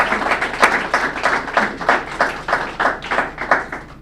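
Audience applause at a Carson-Newman women's golf press conference introducing a new coach: a steady round of clapping from a modest crowd, close and fairly loud, with rhythmic hand claps throughout and no talking.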